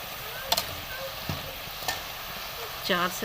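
Namak pare fry in oil over a medium flame, giving a steady bubbling sizzle with a few sharp clicks and scrapes of a spoon stirring the pan, and no voices.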